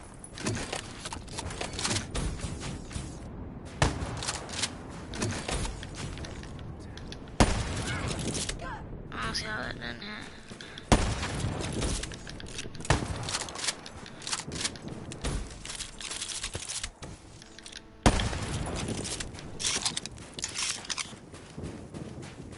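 Rapid bursts of gunfire from a video game trickshot attempt crackle repeatedly over a dense, busy backdrop of game sound, loud and close, with sharp shots spread throughout.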